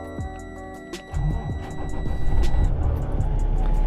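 An 18-wheeler semi truck's diesel engine turns over and catches about a second in, swelling into a heavy, close, rumbling idle that stays loud to the end, after some steady cab tones and clicks.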